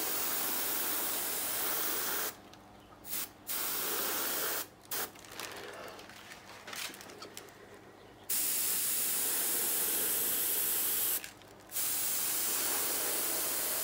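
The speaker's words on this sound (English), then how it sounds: "it's fun to play with your airbrush like this" An airbrush sprays acrylic paint over an acrylic pour in long, steady bursts of loud, close hiss, cut by several short pauses and a stretch of quieter, broken spraying, with no talking.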